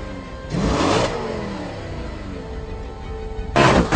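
An Audi RS5 with a V8 engine revs hard twice, each surge a loud rising roar, with a steady engine drone holding between the bursts.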